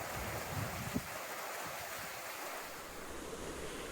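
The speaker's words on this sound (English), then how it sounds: "7 waterfalls in the desert." Desert waterfalls make a steady, broad roar of falling water heard from a short distance, an unbroken wash of noise with some wind rumbling against the microphone.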